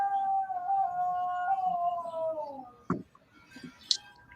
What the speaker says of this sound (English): It's a nice dog wolf there.